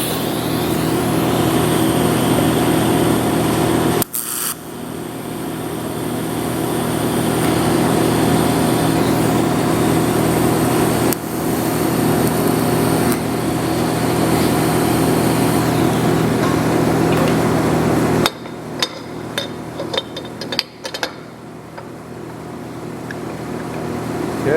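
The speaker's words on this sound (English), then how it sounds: "fire up the welder" An engine-driven welder runs with a steady, loud, continuous engine drone in a workshop setting, broken by a brief interruption and a few clanks near the end.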